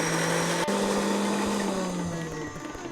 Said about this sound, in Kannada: ಇವಾಗ ಅದನ್ನ ನುಣ್ಣಗ್ ರುಬ್ಕೋತಾ ಇದ್ವಿ.